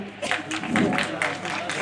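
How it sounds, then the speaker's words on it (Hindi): Audience members at a youth outreach and engagement programme in Inderwal clap in a quick run of distinct claps, with voices talking over them. "इंद्रवाल तालियां बजाते रहो, अब लास्ट का टाइम है"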